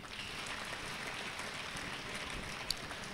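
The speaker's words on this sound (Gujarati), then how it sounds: "તાળી પાડો બધા એકબીજા માટે" Schoolchildren at a school talk clap for one another, a soft, steady patter of many small hands that carries on evenly and sounds fairly distant.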